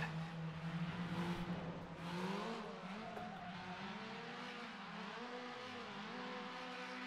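Formula 3 race car engine misfiring in Automobilista at Suzuka, a droning engine note that wavers and dips unevenly as the revs shift, heard moderately faint and continuous without any voices.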